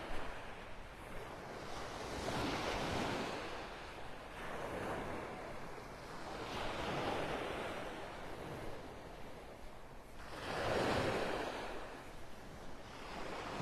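Gulf surf rolls onto Vanderbilt Beach in North Naples, Florida, in soft, slow swells that rise and fall every few seconds. Light wind noise sits underneath, the whole scene is fairly quiet, and no one speaks.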